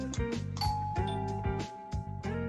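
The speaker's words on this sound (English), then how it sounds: "Zeri perks up like a dog at the sound of the doorbell." A chiming electronic doorbell rings in the visual novel game Doki Doki Vigilante, a sequence of bright repeated tones over a soft background melody.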